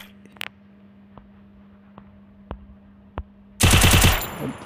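Gunfire in the Free Fire mobile game: a few sharp, isolated single shots spaced out over a faint background tone, then a loud, dense burst of rapid automatic fire at the end.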